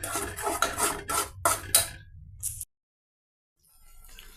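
A metal spoon scraping and stirring a kesar sweet mixture in a pan, several rhythmic rasping strokes over a couple of seconds, then silence before a faint return of sound.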